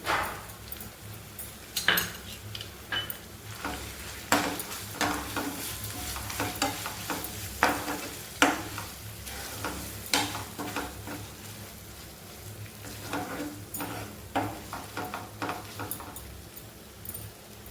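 A ground tomato and onion paste for a paneer kaju masala curry sizzles in a pan while a spoon scrapes and clinks against the metal in irregular strokes, a soft, steady fry beneath the stirring and no talking.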